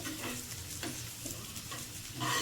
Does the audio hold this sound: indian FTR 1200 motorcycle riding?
no